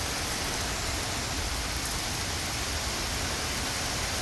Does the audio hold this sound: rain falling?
yes